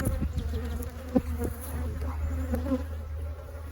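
Honeybees buzz around an open single brood chamber hive during a spring split, a steady low drone with individual bees zipping close past, no talking.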